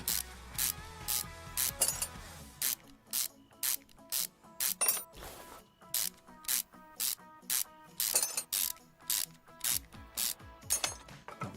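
Ratchet wrench loosening engine manifold bolts in Car Mechanic Simulator, heard as repeated rapid clicking bursts separated by short pauses, crisp and close, with no talking.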